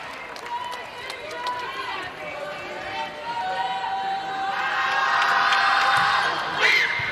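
Crowd noise at a 2024 women's college volleyball match between Michigan State and USC, a broad roar swelling louder toward the end with whoops, under continuous play-by-play commentary.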